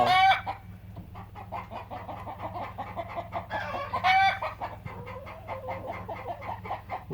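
Americana and red sex link hens cluck steadily and close by, overlapping calls in a continuous chatter over a low farmyard hum.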